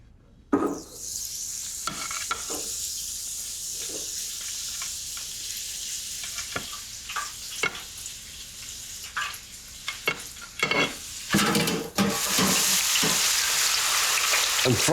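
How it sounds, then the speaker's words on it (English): Aubergine pieces deep frying at 160 degrees in a deep fat fryer, a loud steady bubbling sizzle that starts abruptly and continues throughout, with occasional clattering bursts and surges as the oil churns. "now we take it to the fryer"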